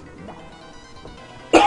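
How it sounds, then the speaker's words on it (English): A single sharp cough bursts out loudly at the end, after a stretch of quiet game audio during a playthrough. "growly voice makes me cough."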